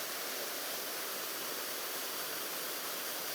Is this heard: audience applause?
no